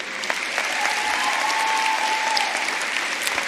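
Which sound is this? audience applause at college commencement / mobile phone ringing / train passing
audience applause at college commencement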